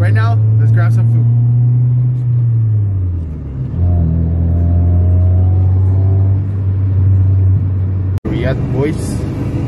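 A Jeep engine revs hard and loud up close, the pitch climbing, dropping, then holding at a high steady drone, with a sharp pop near the end and excited voices shouting over it.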